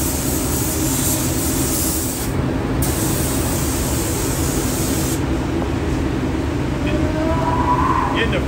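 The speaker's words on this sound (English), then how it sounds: "Getting the first coat of clear on." A spray gun lays clear coat onto a patch panel on a Ford F250, giving a continuous airy hiss that cuts out briefly and resumes, close and steady over a low hum.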